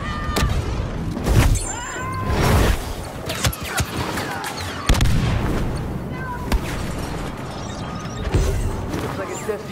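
Rapid bursts of blaster fire crack and boom in the Star Wars Battlefront II video game, coming in repeated volleys with explosions amid battle noise, while voices talk over the shooting.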